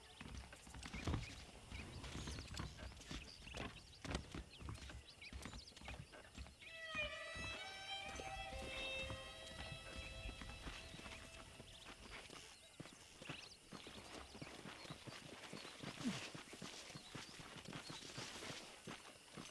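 Steady horse hooves clip-clopping at a walking pace in the video game Red Dead Redemption on PC, with a brief whinny partway through and a busy game soundscape underneath.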